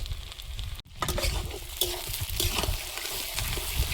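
Dried red chili, five-spice seeds, chopped onion and tomato sizzle loudly in hot oil left from frying fish, with a steady crackle and stirring scrapes after a brief gap near the start.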